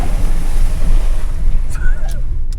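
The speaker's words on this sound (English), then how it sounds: "First water crossing." A 4-wheel drive pushing through a water crossing on an outback road trip, a loud continuous rush of splashing water and engine under heavy wind-buffeted noise, close to the microphone.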